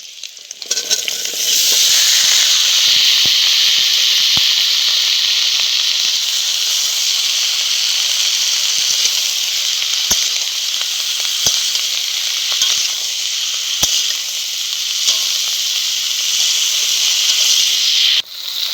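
Eggplant frying in a pan with already-fried takoya fish, a loud continuous sizzle and hiss punctuated by occasional sharp clicks of stirring.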